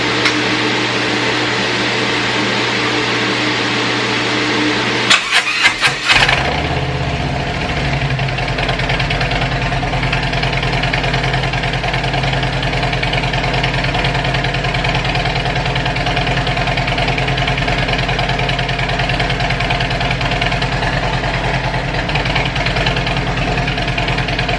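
A Harley-Davidson Road Glide engine with straight-through baffles idles with a loud, raw rumble, a few sharp pops at one point, then a steady throbbing drone continuing for a long stretch.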